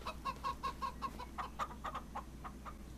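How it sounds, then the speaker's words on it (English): Chickens clucking in the Farming Simulator 25 video game, a steady run of rhythmic clucks over a low constant hum, fairly close and with no talk. "How's my little chickens today?"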